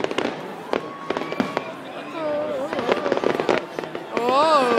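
Scattered Canada Day fireworks booms and crackles sound over a crowd, with whistling rockets rising and people talking and cheering nearby.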